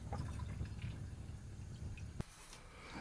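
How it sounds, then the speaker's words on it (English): Water rinses a freshly developed photographic print in a steady, close trickle with light splashing, ending in one sharp click. "We just need to give it a 2-minute rinse."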